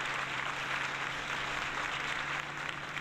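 Applause during a farming-simulator livestream, a dense, even wash of clapping noise that holds steady throughout with no voices.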